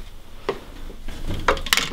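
Small wooden toy pans clatter and knock together in a wooden toy kitchen, a few close, light hits that grow busier near the end, with no talk.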